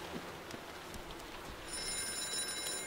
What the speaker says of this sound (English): And a phone call.